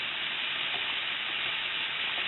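Steady, loud sizzling of garlic, onions, mushrooms and other vegetables stir-frying in a hot pan, a continuous hiss without pauses or voices.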